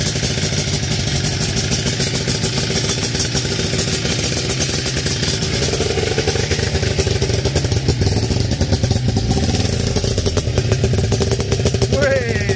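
Two-stroke engine of a Daihatsu Fellowmax car rumbling steadily at idle through an aftermarket exhaust, with blips of revving and light mechanical clatter, close and loud throughout.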